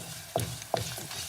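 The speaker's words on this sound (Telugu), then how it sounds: "ఎండుమిరపకాయలు వేసి తాలింపు వేగిపోయిందండి" Mustard seeds, cumin, urad dal and dried red chillies tempering in hot oil with garlic for a ridge gourd curry, giving two sharp crackling pops over a faint, steady sizzle.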